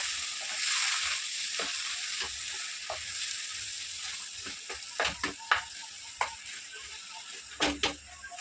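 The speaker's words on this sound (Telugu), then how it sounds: "పప్పుని రవ్వని కొబ్బరిని కలుపుకుంటూ వేపుకోండి" Dal, rava and grated coconut being dry-roasted and stirred together in a pan over a low gas flame, giving a soft steady sizzle with scattered scraping clicks of a spoon that grow sharper toward the end.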